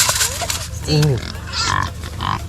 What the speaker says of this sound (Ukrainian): О, велике порося прийшло,